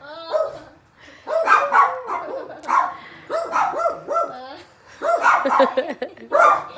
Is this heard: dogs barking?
yes